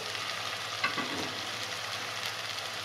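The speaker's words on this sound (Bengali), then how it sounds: "এবার এখানে আদা রসুন আর লঙ্কার পেস্টটা দিয়ে দেবো।" Ginger, garlic and chilli paste sizzles among onions frying in a pan, a steady, fairly quiet crackle with a brief louder hiss near the start and no voices.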